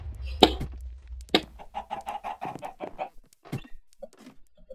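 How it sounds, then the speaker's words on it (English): Chicken clucks in a block hunt video game, a run of short rhythmic clucks with a few louder squawk-like bursts, heard close and alone. "Chicken."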